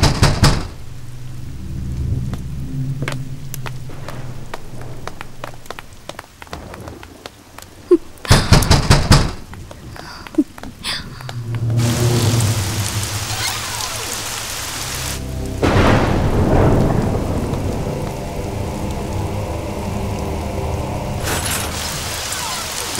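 Heavy rain pours steadily with rumbling thunder rolling through several times, plus a sharp crack near the middle, in a stormy night scene from a Tamil-dubbed thriller film.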